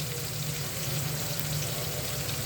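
Onion, ginger and garlic frying together in a pan for a fish curry, giving a steady, even sizzle that holds at the same level throughout with no voices.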